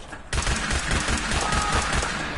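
Rapid automatic gunfire from the video game Fallout 4 bursts in after a brief quiet start, then rattles on continuously and loudly with a dense, crackling texture until the end.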